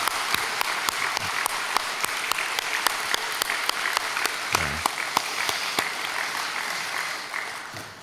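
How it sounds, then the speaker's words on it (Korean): Church congregation gives steady, moderately close applause that holds even for several seconds, with a few sharper individual claps standing out, then fades near the end. "우리 다시 한번 박수로 격려하겠습니다"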